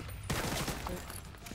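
Enemy gunner fire in The Division 2, a sustained, muffled stream of rapid gunshots at moderate distance, fairly quiet and smeared together rather than distinct single cracks.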